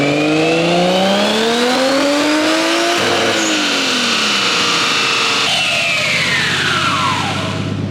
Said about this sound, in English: The car is definitely breaking up a little bit.